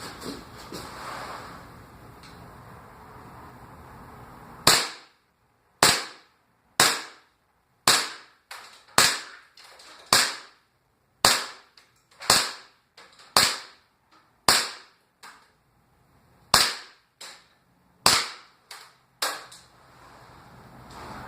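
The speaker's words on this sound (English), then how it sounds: "I'm now proceeding down there to shoot. This is the Colt 1911 A1." Colt 1911 A1 pistol fired outdoors, about fifteen loud, sharp shots spaced roughly a second apart, each cracking out and decaying quickly, after a stretch of soft wind-like background noise.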